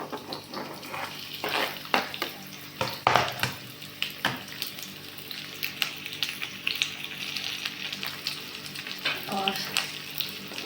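Onions fry in a pan with a close, crackling sizzle, broken by repeated scraping stirs and utensil knocks throughout. Nobody speaks.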